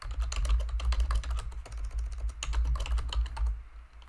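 Rapid, close keystrokes on a computer keyboard as a calculation is typed into Tableau, clattering in quick runs with brief pauses, over a low steady hum.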